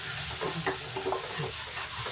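Spices frying and being stirred in a pressure cooker for a lobia curry, a dense continuous sizzle with scraping stir strokes, close and fairly loud with no talk.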